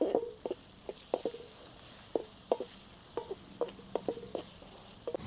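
A spoon stirs village-style fish egg burji in a hot pan, with a steady sizzle and a run of sharp, close scrapes and taps at an uneven rhythm.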